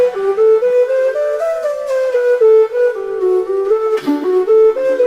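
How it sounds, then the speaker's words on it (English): A violin melody rendered by a neural DDSP model as a shakuhachi flute tone, breathy and pure, gliding between sustained notes in a continuous line, close and fairly loud. "it's been translated to like a shakuhachi flute sound."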